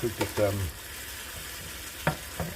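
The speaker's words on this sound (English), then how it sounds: "that's boiling nice" Beef Madras curry bubbles and sizzles steadily in a pan, with a few clinks and scrapes from stirring near the start and end, fairly close and moderately loud with no talk.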